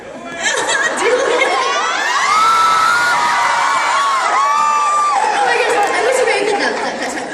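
A convention audience in a large hall chatters, laughs and cheers loudly, with voices overlapping in a dense, lively crowd roar that holds steady throughout.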